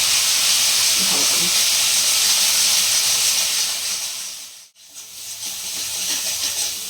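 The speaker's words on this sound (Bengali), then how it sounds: "এরপরে আমি মশলাটা কষবো" Masala with Kashmiri chilli powder and slit green chillies sizzling and hissing steadily in a pan while being stir-fried for a chara pona fish kalia, with a brief lull midway and a short spoken remark over the frying.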